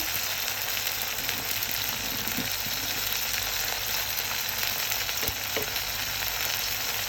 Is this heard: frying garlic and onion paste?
yes